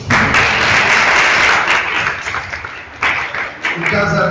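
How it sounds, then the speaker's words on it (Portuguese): Loud, sustained applause from a crowd, steady clapping that thins out slightly toward the end with a few bursts. "Aplausos."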